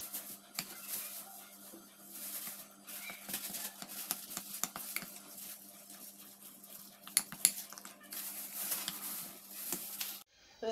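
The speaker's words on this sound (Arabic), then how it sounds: "نخلط هذا الياغورت مع الحليب." Yogurt is being stirred into milk in a bowl, with light repeated scraping and clinks of a utensil against the bowl over a steady hum and a few louder knocks.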